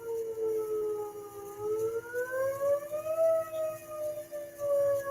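An outdoor civil defense siren by a house wails in rising and falling tones, loud and sustained, with a low steady hum underneath and no talk.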